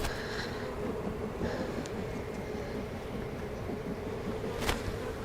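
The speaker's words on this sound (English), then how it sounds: "there's so many bees in here" Dense, low buzzing of many honeybees inside an open beehive during a swarm-cell check, a steady close hum with no talk over it.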